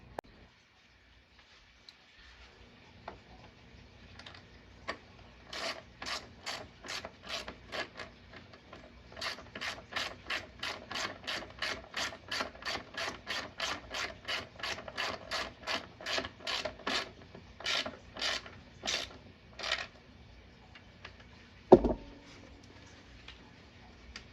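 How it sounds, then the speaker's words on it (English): A ratchet clicks in long, quick, rhythmic runs while turning bolts on an arcade cabinet, close and fairly faint, ending with a sharp knock. "So let me go grab a ratchet for those."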